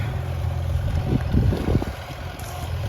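A Case VAC tractor running with a worn rear end that howls, a steady loud low engine drone with a rough, rising and falling whine layered over it, close to the microphone.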